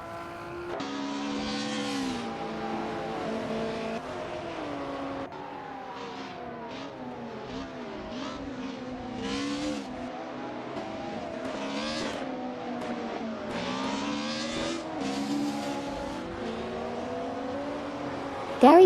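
Supercars race around Road Atlanta in a video game, engines revving and shifting through rising and falling tones with continuous roaring, one car close up and others layered beneath.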